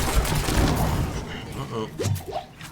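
Rapid bursts of video game gunfire crackle in quick succession, loud and dense at first, then thinning into scattered shots with whooshing effects, while a voice talks over the action.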